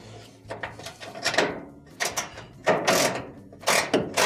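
A small ratchet backs out Phillips screws on a GE dryer belt switch, giving bursts of clicking and scraping metal with short pauses between turns, close and moderately loud.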